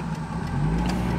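A Porsche engine runs close by at a steady, rumbling idle with a slight rise in pitch toward the end.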